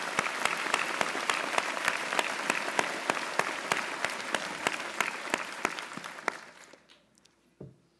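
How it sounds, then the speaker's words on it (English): Steady audience applause at a 2009 college commencement, a dense wash of clapping with distinct sharp claps standing out, lasting about six seconds at moderate distance before fading out, with a faint voice near the end. "So if we could have another round of applause for him."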